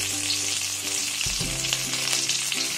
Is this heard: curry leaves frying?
yes